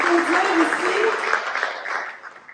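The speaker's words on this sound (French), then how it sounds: "je pense qu'on peut faire une bonne main d'applaudissements" Applause from an audience at a community festival celebrating immigration, a dense round of clapping that fades slightly toward the end while a voice carries on over it.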